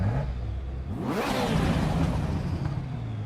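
Car engine in the racing game Assetto Corsa EVO, revving up and sweeping through the gears with a rising whine, loud and continuous throughout.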